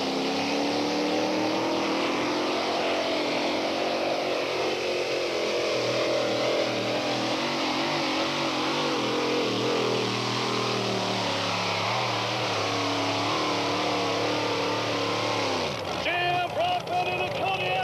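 A two-wheel drive pulling tractor roars through a full pull, a loud, sustained engine howl that holds steady for about sixteen seconds before cutting off sharply, with an announcer talking over it.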